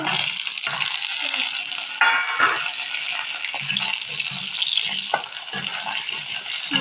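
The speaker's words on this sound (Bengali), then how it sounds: "এবার কেটে রাখা আলুগুলো দিয়ে দেবো" Chopped potatoes frying in oil in a wok, a loud continuous sizzle with scraping stirs and occasional clatter of a utensil, close up throughout.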